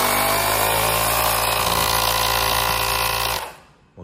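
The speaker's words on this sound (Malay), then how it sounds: "Motor ni berjalan." Steelmate 4-in-1 tire inflator's air pump motor runs loud and steady with a buzzing, rattling drone for over three seconds, then cuts off abruptly, close to the microphone with no talking.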